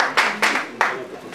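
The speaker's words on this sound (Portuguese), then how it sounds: "Uma salva de palmas para ele." Small group clapping after a theatre workshop exercise: a few sparse, separate bursts of hand claps, close by and fairly quiet, with a voice faintly under them.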